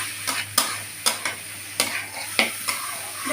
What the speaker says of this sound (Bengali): এটাকে নাড়াচাড়া করে নেব। সব মশলার সঙ্গে বেশ একটু কষা কষা ভাব করে নেব।